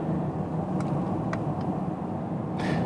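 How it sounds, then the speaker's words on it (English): A 2020 Mercedes GLE 450, a big heavy SUV, driving: a steady low engine and road rumble heard from inside the cabin, with a few faint clicks, and no talk. "Really a lot of fun to drive the car, although it's a big and heavy car."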